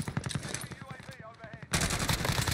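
Automatic fire from a Fara 83 rifle in Warzone: rapid repeated shots, quieter at first, then a loud, dense burst of near firing at the end.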